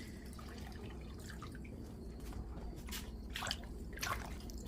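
Water drips and trickles softly from lightly squeezed blanched green amaranth (callaloo) leaves, a few faint splashes over a quiet kitchen background.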